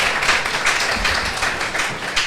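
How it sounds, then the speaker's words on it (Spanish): A classroom audience applauds student presenters after their project, a steady wash of many hands clapping, fairly close and continuous for the whole stretch with no talk over it. "un aplausito para las artistas de..."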